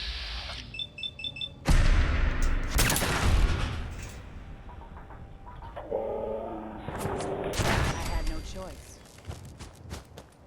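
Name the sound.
heavy artillery gunfire in video game Fallout 4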